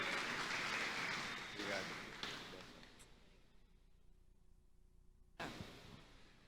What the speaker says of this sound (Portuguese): Palmas para ela, pessoal, por favor.